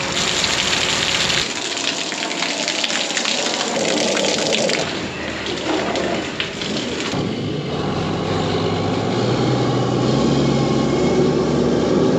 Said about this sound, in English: get up in the top with the garden hose, rinse some fresh water in there